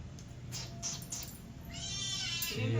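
A black cat meows a few times, thin and fairly close, with a longer drawn-out meow toward the end over faint indoor background noise.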